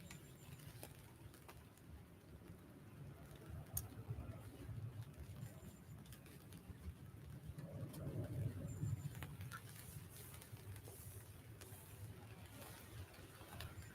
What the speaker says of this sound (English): Starting to get quite heavy as well, that rain now.